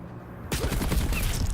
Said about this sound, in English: Pro Shots sending out warning shots